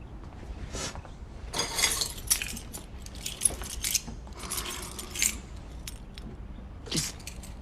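Keys jangling in repeated metallic bursts, several bright clinks and rattles spaced irregularly, close and moderately loud over a low background rumble.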